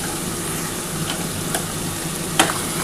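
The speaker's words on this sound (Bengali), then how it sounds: "এবার এই যে আদা রসুন আর কাঁচা লঙ্কা বেটে রেখেছি এটা দিয়ে দিলাম।" A ground paste of ginger, garlic and green chili sizzles in hot oil with a constant hiss, broken by a few sharp spatula taps, for a fish curry.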